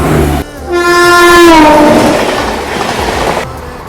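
A train passes at a crossing with a loud, close horn blast that sweeps downward as it goes by. Rumbling carriage noise follows and fades out as the train clears.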